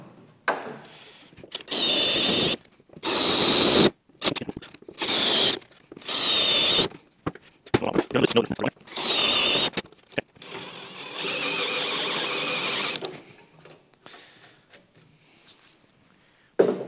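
Loud, harsh bursts of a pneumatic air chisel cutting sheet metal on a Mk2 Ford Capri body, several rapid hammering runs of a few seconds each separated by short pauses, with one longer sustained burst near the end.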